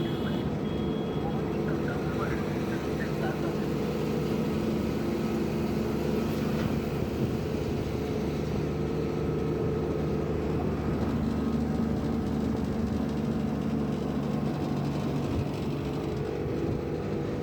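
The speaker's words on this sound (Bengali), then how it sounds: "গাড়ি এখন নদীর ঢালে উঠছে" Petrol and gas toto auto-rickshaw carrying about 1,550 kilograms including the driver, climbing a river slope by the Kansai river bridge, with a steady loud engine drone and a rough rumble, continuous throughout with no pauses.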